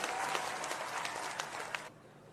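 A crowd at a farmers' rally in Rajasthan gives a short burst of dense, distant-sounding applause that stops abruptly near the end, leaving quiet background.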